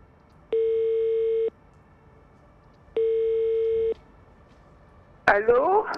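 Two long, steady single-pitch telephone tones, each about a second with a pause between, followed by a brief burst of ringing or line noise at the end, heard while placing a call to a mother-in-law.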